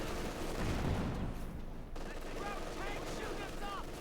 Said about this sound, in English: The machine gun crew though has not been given warning and they're being hit there by the cluster bombs